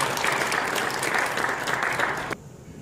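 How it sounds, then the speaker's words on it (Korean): A congregation at a Saturday early-morning prayer meeting in a church gives a short, lively round of applause that cuts off abruptly, leaving a quiet room. "박수 해주세요."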